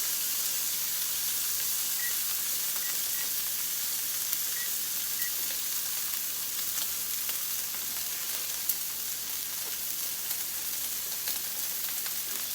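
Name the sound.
thin steaks searing in a pan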